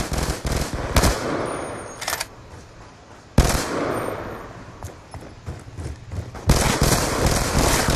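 Loud bursts of rapid gunfire in a shooting video game, several sharp volleys separated by short lulls, with a three-shot burst weapon, close and dominant with no talk.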